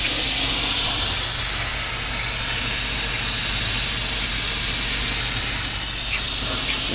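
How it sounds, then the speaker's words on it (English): A spray hose blasts water to rinse leftover fluid off a part, giving a loud, continuous hiss that holds steady for several seconds with slight shifts in tone, close and unaccompanied by talk. "Hose this off and try to get some of that leftover fluid out of there"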